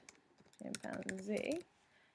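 Someone types on a computer keyboard. A short, close burst of quick clacking keystrokes is partly overlapped by a voice, and the room is quiet on either side.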